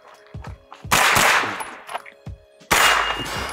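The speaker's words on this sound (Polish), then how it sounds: "tylko po dwa strzały do każdej tarczy" Two loud gunshots ring out about two seconds apart at a shooting range, each followed by a ringing echo, with faint clicks and shuffling before them.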